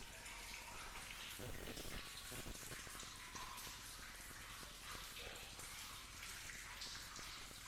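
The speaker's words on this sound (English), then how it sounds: "There's water dripping, which drowns out the sound somewhat" Water drips and trickles inside an old mine tunnel, a constant wet splashing hiss with scattered drops, fairly faint and enveloping.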